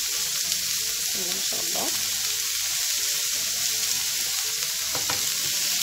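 Onions and meat frying in a little oil in a pan, a constant close hissing sizzle with a few brief stirring scrapes, a voice speaking briefly over it.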